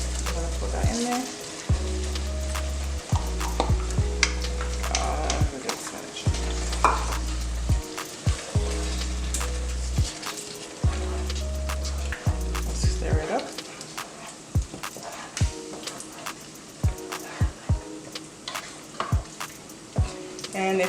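About two cups of frozen cut leaf spinach sizzle and crackle in a stew pot while being stirred, with repeated sharp spoon scrapes and clicks over a steady frying hiss, close by and with no talk.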